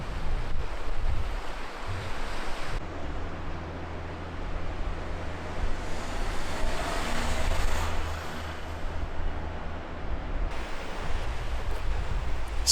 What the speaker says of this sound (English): Waves of the Sea of Japan in winter usually are so rough.